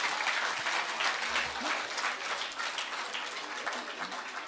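Audience applause at a preschool annual day: steady, dense clapping from a large crowd, held at an even level throughout with no pause.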